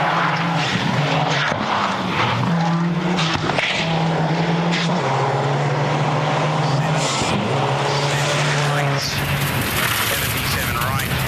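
Emma Gilmore's underpowered rally car runs a gravel stage at Rally Otago in the 2008 New Zealand Rally Championship, its engine droning close and steady through shifting gear tones, with a commentator talking over it throughout.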